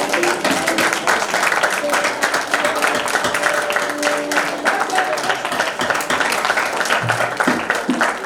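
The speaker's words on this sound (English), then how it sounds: "We need to give them a standing ovation." An audience at a get-together rises for a standing ovation, loud sustained clapping filling the room while voices talk and call out underneath.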